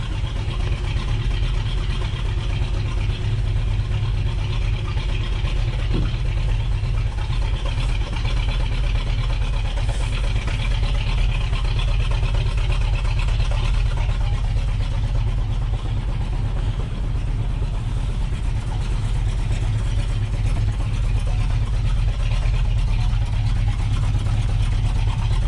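A 1970 Dodge Challenger R/T with the 440 Six Pack V8 idles as it warms up after a cold start, a loud, deep, steady rumble that runs unbroken and close throughout, with no voices.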